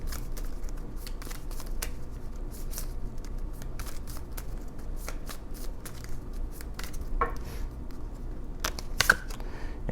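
Tarot cards are shuffled and drawn up close in a quiet room, giving a continuous papery riffle with rapid flicking snaps and a few sharper slaps near the end, no voices.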